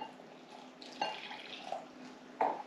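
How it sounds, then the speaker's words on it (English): Water poured into cornstarch in a mixing bowl, with a few soft splashy drips and small clinks over a quiet background, three brief louder splashes standing out. "So what we'll do first is combine the water and cornstarch."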